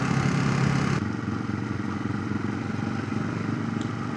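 A Ducati motorcycle engine drones steadily while riding through the Alps in cold weather, heard as a constant mid-pitched hum with wind noise throughout and no talking.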